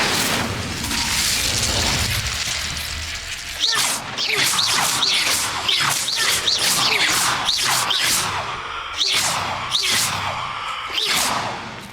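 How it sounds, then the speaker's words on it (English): Incendio fire spell cast over and over in Hogwarts Legacy: a rapid series of sharp whooshing bursts and crackling impacts, each a short swishing blast, loud and close over a rumbling game backdrop. "Incendio!"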